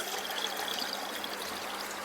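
Water siphons fast through an aquaponics filter pipe sitting below the water surface, a steady close pouring rush with bubbly trickling texture that holds constant throughout.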